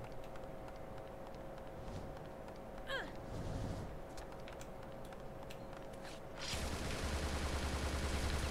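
Gunfire in the Xbox 360 shooter Bullet Witch, a quick burst of shots around the midpoint, then a denser, louder stretch of rapid firing and breaking debris near the end over a steady game background.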